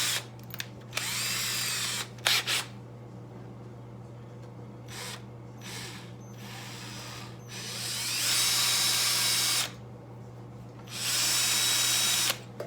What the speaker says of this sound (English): Main thing about drilling out a broken stud is to get it dead center the first time.